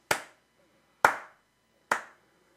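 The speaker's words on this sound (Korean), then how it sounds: "이 뼈만 남은 사람 치는 박수 소리 틀려요" Three single hand claps, sharp and close, spaced about a second apart, each ringing briefly in a quiet room.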